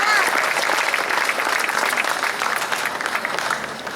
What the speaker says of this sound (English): One more round of applause for the tennis team.